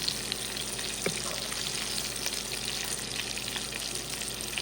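A steak fries with butter in a pan, making a steady close-up sizzle with scattered small pops and crackles throughout. No one speaks.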